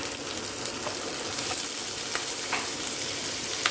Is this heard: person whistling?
no